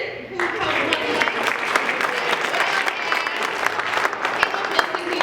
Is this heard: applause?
yes